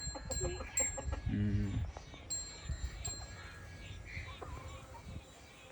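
Chickens cluck softly nearby in short, scattered bursts, with faint chirps and rustling around them.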